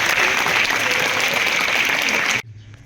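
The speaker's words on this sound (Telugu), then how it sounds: "okay, claps for Praneetha" A group bursts into steady, dense clapping during a class session; the applause holds at full strength for over two seconds, then stops abruptly, leaving near silence.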